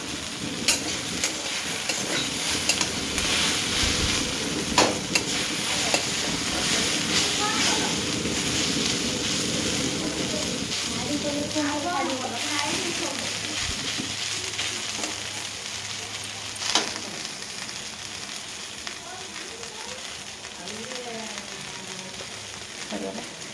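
Greens and okra frying in a pan give a steady broad sizzle with occasional stirring scrapes, and a voice talks intermittently over the cooking.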